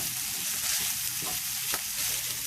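Ground meat and egg frying in a pan, a steady loud sizzle with faint stirring scrapes, close by and without speech.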